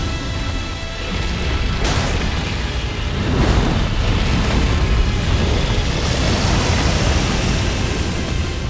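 A boss attack explosion in the Elden Ring video game roars as a dense, continuous broadband rumble with a heavy low boom, loud and sustained for several seconds, with no speech.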